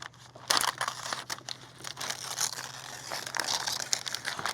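Gift wrapping is ripped open up close in repeated crinkling, tearing bursts of paper that come in uneven rushes, some louder than others.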